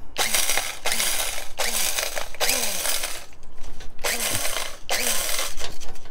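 A blade coffee grinder whirs in loud bursts while being shaken, its rattling, grinding roar cutting off and restarting about five times, with brief quieter gaps between pulses.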